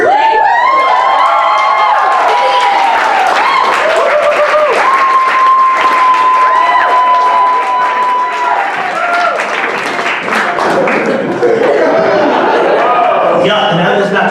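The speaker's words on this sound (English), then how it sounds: "Our next comedian, we need a really big applause" Loud applause and cheering from a student audience at a stand-up comedy show for a comedian on his 21st birthday, with whoops and shouts over the clapping and a voice talking through it near the end.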